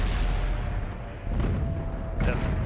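Tank cannon fire in a competitive team tank game match: heavy booming shots over a constant loud engine-like rumble, with a couple of distinct impacts near the middle and end.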